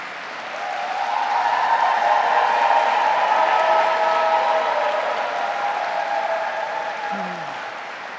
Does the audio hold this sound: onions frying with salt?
no